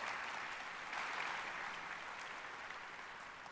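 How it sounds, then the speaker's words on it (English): A crowd of listeners applauds at an education speech, a steady, moderately distant wash of clapping that holds evenly throughout. "you can give yourself a round of applause"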